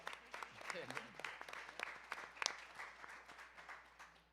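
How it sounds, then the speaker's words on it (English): A small audience at a creative music industry event claps for a performer, scattered hand claps rising and fading at a quiet level with some talk underneath. "Can we clap it up for him for that too?"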